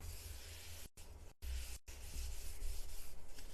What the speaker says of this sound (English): we're going to take another Clorox wipe, and I'm just going to wipe this down